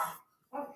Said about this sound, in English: you can hear my dog barking